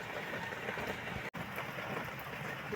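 A continuous trickle and splash of water pouring out of a clogged car air-conditioning drain hose, steady and fairly quiet, with a single brief dropout midway.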